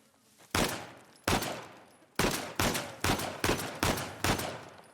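Seven sharp, loud gunshots ring out one at a time in the PS5 game Uncharted: The Lost Legacy, each fading with a short echo. The shots come at slightly uneven intervals after a quiet start, and nobody speaks.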